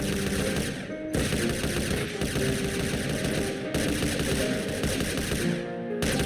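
Gunfire from a shootout in video game machinima, loud continuous automatic bursts with brief gaps, dense and close, layered over a busy game soundtrack.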